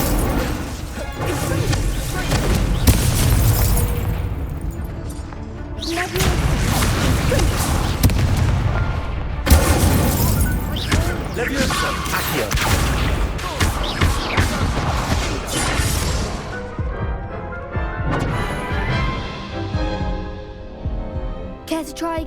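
Loud, close spell explosions from the Confringo and Incendio spells in the video game Hogwarts Legacy on PS5, with repeated booming blasts and crashing impacts that continue throughout.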